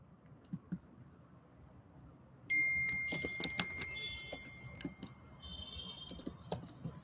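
Sparse, light clicks from typing on a computer keyboard, faint and close, with a steady high electronic tone joining partway through.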